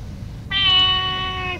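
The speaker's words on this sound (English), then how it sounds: "There's a cat right on your head." A cat gives one long, drawn-out meow close by, starting abruptly after a short quiet pause and holding steady to the end over a low background rumble.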